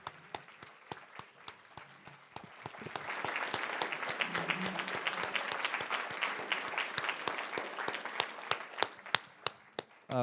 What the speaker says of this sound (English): Would you give all of the Knights of Columbus and Don a huge round of applause?